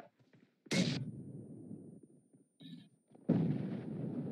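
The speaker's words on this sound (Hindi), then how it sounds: "दिवाली दिवाली पटाखे फूट रहे हैं पबजी मोबाइल में" Firecrackers burst during a Diwali-themed team deathmatch in PUBG Mobile. Two loud, sharp blasts go off a few seconds apart, each followed by a rumbling decay, with a faint crackle between them.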